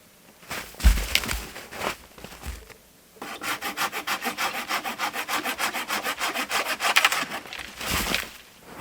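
A Japanese Silky pull saw cuts through wood in a snowy winter camp. A few hesitant strokes come first, then a steady run of fast, even back-and-forth rasping strokes, close and clear with no talk.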